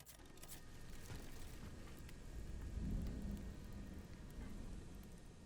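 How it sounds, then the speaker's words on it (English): Torrential rain pours steadily in Steelrising, a dense hiss with thunder rumbling low beneath it and swelling to a heavier roll midway, alone with no talk. "Okay, that is torrential rain."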